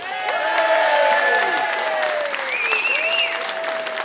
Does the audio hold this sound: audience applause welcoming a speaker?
yes